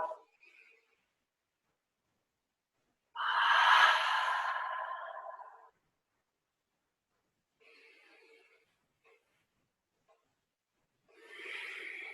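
Slow, deep yoga breathing: one long, audible exhale, followed by fainter breaths and another soft exhale near the end, separated by long quiet gaps.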